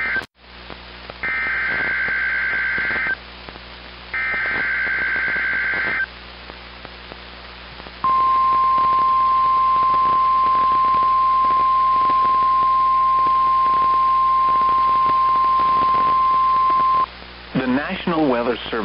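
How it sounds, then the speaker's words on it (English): Emergency Alert System broadcast for hazardous weather warnings in North Central and Northeastern Colorado: two short data-burst blocks, then a long steady loud attention tone of about nine seconds, ending in a closing burst. "The warning alarm tone will be activated for hazardous watches and warnings"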